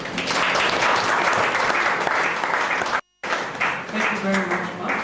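An audience applauding a speaker at an event for newly employed academic staff: loud, sustained clapping from many hands that briefly cuts out, then resumes while a voice speaks over it.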